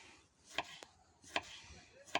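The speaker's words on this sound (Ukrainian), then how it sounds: "Тому ми декілька помідорок зараз наріжемо" Three crisp knife chops through tomatoes on a cutting board, evenly spaced about a second apart, close and quiet, with a small tap in between.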